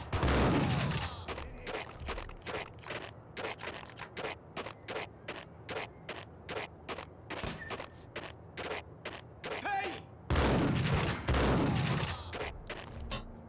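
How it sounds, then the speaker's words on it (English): Shotgun blasts from the video game Max Payne 3, fired in a steady rapid series of loud, sharp booms with a dense burst near the start and another late, over a low game background. "I do kind of love how the shotgun sounds in full time"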